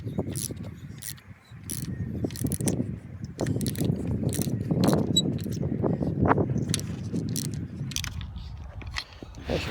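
A ratchet with a 19mm deep socket works a fastener on a plastic water pump of a 2011 Jeep Grand Cherokee 5.7L HEMI, giving close, dense clicking and grinding bursts in uneven runs throughout.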